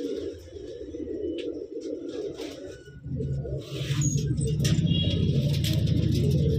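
Pure-bloodline pigeons in Delhi coo in soft low repeated phrases, close and moderately loud, with rustling and faint background noise.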